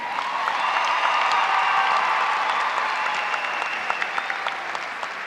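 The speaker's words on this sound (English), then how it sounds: "Let's give all the honor graduates a round of applause." Honor graduates at a Bowie State University spring 2015 commencement ceremony receive applause from a large crowd. The clapping is loud and steady throughout, with a few sharper claps and faint cheers standing out near the end.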